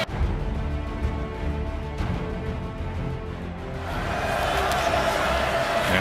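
Football stadium crowd of over 80,000, a broad continuous roar of many voices that swells louder toward the end, with cheering rising out of the din.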